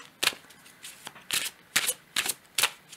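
Oracle dream cards being shuffled by hand in a quiet room, a series of brisk papery riffles and slaps, about five distinct bursts spaced roughly half a second apart, close and fairly soft.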